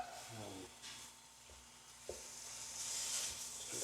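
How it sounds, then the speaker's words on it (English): Ground beef, an 80-20 blend, sizzling in a pan as it is dumped in, a steady soft frying hiss with a few clicks and clatters of handling, rising slightly louder toward the end. "we're going to dump that right on in. Here it starts to sizzle a little bit."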